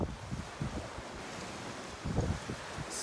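Wind and sea waves on a quiet shore, a steady broadband rush with soft low surges rising around the middle and end, no voices.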